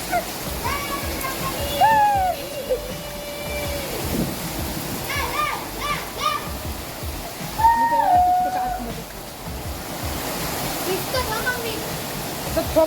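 Heavy unseasonal rain in Thane district pours down while water floods into a house, a loud, steady roaring downpour that fills the whole clip, with voices talking over it now and then.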